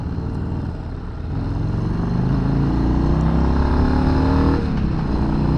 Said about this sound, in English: that 117, man, that is an aggressive motor